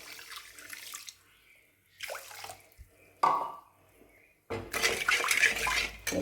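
Water poured into sugar for a sweet syrup, heard as several short splashing pours with quiet gaps, ending in a louder, sustained stream close by.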